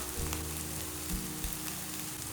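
Potatoes and onions frying in hot oil in a pan, giving a steady, close sizzle with soft crackles and a few brief stirring knocks, with no talking.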